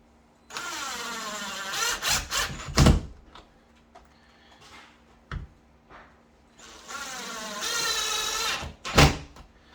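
Short screws driven into a door hinge with a power driver: two sustained whining bursts of several seconds each, separated by quieter clicks and knocks of handling, fairly close and with no talking.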